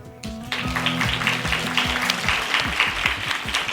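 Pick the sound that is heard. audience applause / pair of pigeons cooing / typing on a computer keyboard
audience applause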